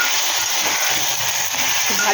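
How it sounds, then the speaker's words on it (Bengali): Potatoes sizzle and fry in a pan over low gas while being stirred, a dense, continuous hiss that stays loud and steady throughout, with faint scraping near the end. "আলুটা এবার নাড়াচাড়া করবো"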